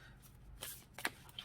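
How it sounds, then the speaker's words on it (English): A card being pulled from the White Light Oracle deck by Alana Fairchild, a couple of faint, brief papery slides and flicks close by in a quiet room. "Let's pull a card to start the reading here with this."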